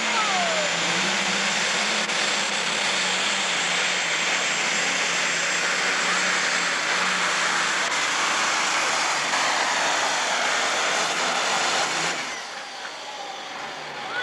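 A super stock pulling tractor engine runs at full throttle during a 2002 NTPA Grand National tractor pull in Georgetown, Ohio, a loud, sustained, steady roar for about twelve seconds before dropping off sharply near the end.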